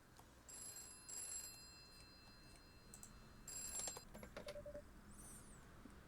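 A telephone rings in short repeated bursts in a video game, bright metallic trills separated by brief pauses over a quiet, hissy background.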